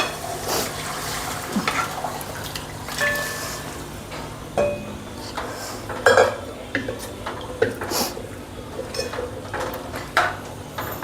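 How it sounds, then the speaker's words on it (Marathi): Spinach tipped into frying chicken masala for palak chicken and stirred in a metal pan, with repeated scraping and clinking of a spoon against the pan over a soft sizzle, close and moderately loud. "आता मी भाजी टाकते."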